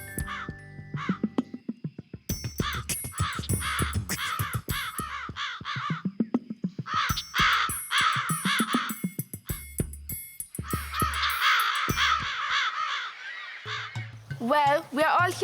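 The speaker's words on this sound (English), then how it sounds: "We have been chasing the birds away." Crows caw repeatedly over farm crops in bursts of harsh, rhythmic calls, loud and close, with speech running beneath much of the stretch.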